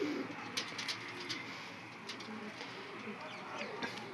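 Soft pigeon coos rise and fall in a busy outdoor setting, with scattered chirps and background noise throughout.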